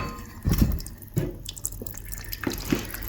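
Water drains from a central heating radiator in a burst of close splashing and trickling, with louder gushes in spurts over a constant watery rush.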